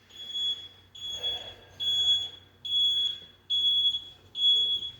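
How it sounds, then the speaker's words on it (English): An electronic alarm beeps in a steady pattern, six loud high-pitched tones each lasting about half a second, with faint background rumble between them. "Maybe let's wait for this beeping to end."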